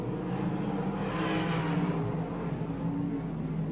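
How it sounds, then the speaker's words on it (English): Race car in a sprint heat at Newcastle coming down the main straight on the last lap: a sustained, moderately distant engine drone that swells slightly and holds steady, with no voices. "Robert Farr will come down main straight away with just 1 lap left to travel."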